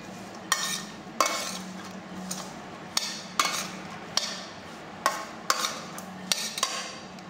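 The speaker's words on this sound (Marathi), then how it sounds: "आणि यानंतर व्यवस्थित सर्व आपण हे मिक्स करून घेणार आहोत। एकजीव होत नाही तोपर्यंत व्यवस्थित आपल्याला हे एकजीव करायचे आहे।" Boiled mataki (moth bean) mixture being stirred in a pan, the spoon scraping and knocking against the metal in a steady series of distinct strokes about every half second to second, close and alone with no speech.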